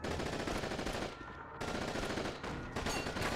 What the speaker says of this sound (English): This big thing's an SMG.